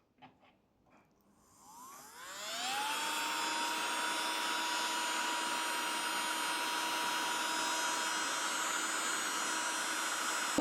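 An electric sander's motor spins up and holds steady at 30,000 rpm, a loud, continuous high whine with a rising pitch over the first seconds, then a constant drone with no talking.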